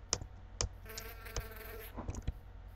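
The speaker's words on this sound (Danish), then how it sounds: "Det var dumt flue." A fly buzzing in a survival video game, a faint thin whine drifting in the middle, broken by several sharp clicks or taps.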